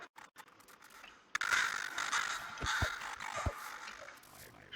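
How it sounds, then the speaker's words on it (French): Crows cawing in a video game, harsh raspy caws and scratchy calls at moderate volume with a few sharp thumps underneath, no talk. "Ah, c'est des corbeaux, j'ai cru que c'était une araignée qui volait."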